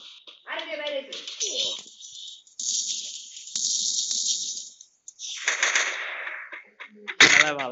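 Rapid bursts of gunfire in the Free Fire mobile battle game, loud clustered shots and rattling effects repeating through the clip, with game sound effects and a voice briefly heard between.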